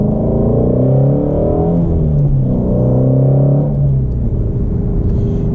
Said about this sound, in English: You get a nice low rumble from the exhaust, nothing too crazy on the interior.